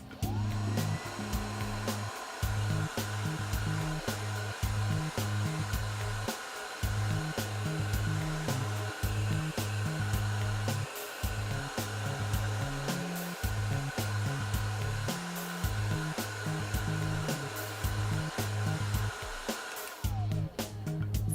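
Hair dryer blowing steadily during a blow-dry with multiple round brushes, a continuous loud whoosh whose pitch shifts now and then as the airflow changes, with no talk over it.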